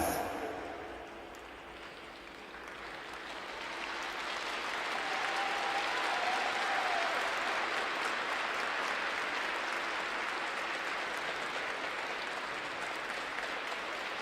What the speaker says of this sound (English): what great support Alexander received also from the audience, clapping along with the music